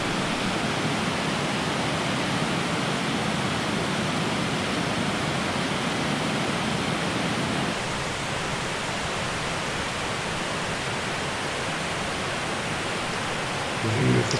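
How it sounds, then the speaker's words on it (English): Water pours steadily down the stepped weirs of Upper Roddlesworth Reservoir below a dam wall, a dense continuous roar heard from a bridge, unchanging and unbroken throughout with no voices. "We're now stood in the middle of the bridge looking up at the water cascading down."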